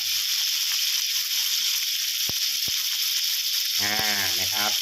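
Pork belly sizzles with a steady, loud hiss as it is stir-fried with light soy sauce, seasoning sauce, oyster sauce and sweet dark soy sauce, with two sharp utensil clicks and someone speaking near the end.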